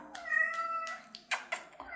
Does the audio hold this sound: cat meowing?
yes